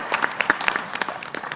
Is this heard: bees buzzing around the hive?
no